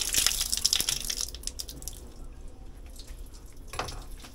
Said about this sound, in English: And give them give them a rinse off again.